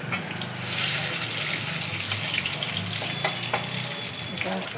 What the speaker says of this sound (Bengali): এবার একটা কড়াইতে তেল দিয়েছি, একটা শুকনো লঙ্কা দিয়েছি, আর দিয়েছি